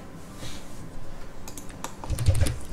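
Computer keyboard keys are tapped while entering AutoCAD drawing commands, a few soft scattered clicks giving way to a faster, louder burst of close typing.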